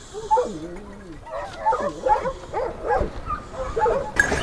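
A pack of hunting dogs released onto the hillside for a big-game hunt in Spain barks and yelps excitedly in quick, uneven bursts, with a voice calling among them.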